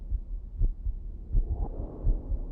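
Heartbeat in a Star Trek video game, set among surgical tables: slow, low thumping pulses repeat steadily at moderate loudness, with no talk over them.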